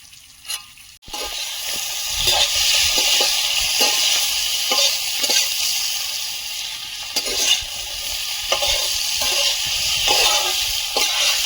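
Drumsticks and pre-fried potato dropped into hot oil for a fish curry, a loud, continuous sizzle with crackling pops and occasional stirring clatter close by.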